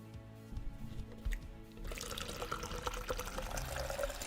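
Water pours and splashes steadily into a container, starting after a quieter dripping moment and continuing as a close, bright, trickling flow.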